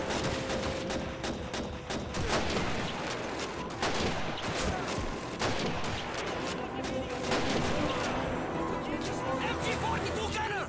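MG-42 machine gun fire in the video game Call of Duty 2 rattles in long continuous bursts, mixed with other gunshots and battle noise throughout a busy, loud fight, with shouting voices over the top.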